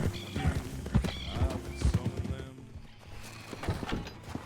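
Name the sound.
horse hooves in Red Dead Redemption video game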